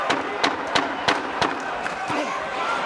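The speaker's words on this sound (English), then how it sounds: "This crowd is loving this title fight already." A boxing arena crowd at a title fight roars and cheers in a dense, continuous wash, with sharp bursts and shouts standing out every fraction of a second.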